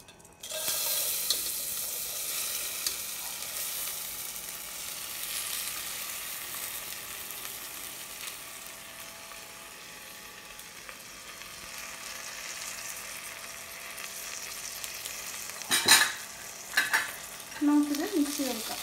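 Rice fries in butter with spices on a low flame, giving a long, steady, fairly quiet sizzle, broken near the end by a few clinks and scrapes of stirring.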